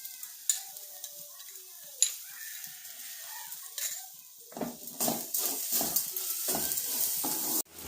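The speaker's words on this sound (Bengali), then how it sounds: "নারকেলটা হালকা আঁচে নাড়াচাড়া করবার পর দিয়ে দিচ্ছি চিনি" Coconut and sugar are stirred in a pan over low heat. A spatula scrapes close by, with soft, sparse strokes at first and then a steadier, denser sizzle and scraping toward the end.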